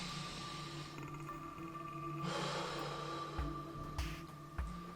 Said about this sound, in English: So take a breath in.